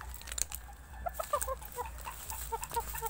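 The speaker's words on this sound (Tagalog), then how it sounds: "Ito mga pansabong na manok" Fighting cocks in Bonbon, Oslob, Cebu, Philippines cluck in a rapid, uneven run of short calls at close range, over a low steady background hum.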